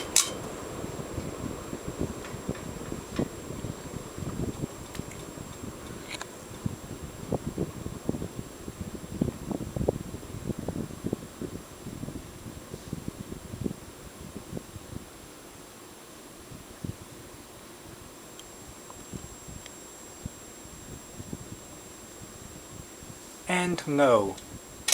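A Hunter ceiling fan turning at medium speed gives off a steady airy whoosh with a rhythmic fluttering rustle close to the microphone, and it fades a little toward the end.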